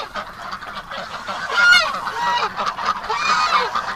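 A farm duck honks loudly and close by in a series of rough, repeated calls, with no one speaking.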